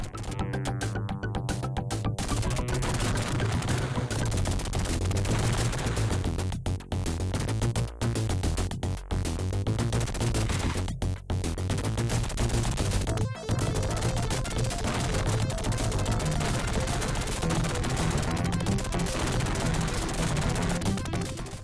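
Dense, continuous gunfire and explosions from a shoot 'em up video game, loud and unbroken, with rapid overlapping bursts and brief dropouts throughout.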